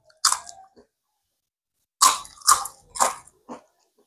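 Crispy fried triangle-shaped chips crunch close to the mic, one bite followed by a quick series of three or four sharp crunches and a final softer one, with silence between.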